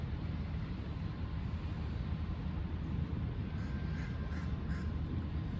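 Crow cawing outdoors, a few faint caws over steady low background rumble, with no speech.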